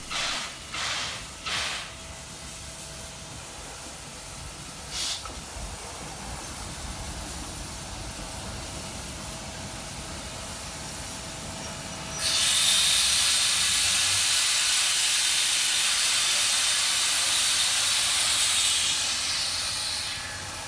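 Steam locomotive 3001 pulling into a station in New South Wales, with faint clanks and rumble at first, then a loud, sustained hiss of steam bursting out midway and continuing to the end.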